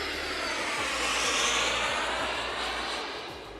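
A twin-turbine RC jet airplane flies overhead, a loud steady turbine whoosh and roar that swells and then fades as it passes, with no speech.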